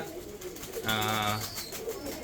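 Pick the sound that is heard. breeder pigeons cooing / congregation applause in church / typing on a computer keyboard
breeder pigeons cooing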